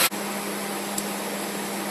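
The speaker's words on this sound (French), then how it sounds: "le moteur tourne depuis 5-10 minutes, on entend le ventilateur qui tourne" A steady, close whooshing roar of a warm 2000 Chrysler 300M's electric radiator cooling fan runs continuously with a low hum, unchanging after a brief start.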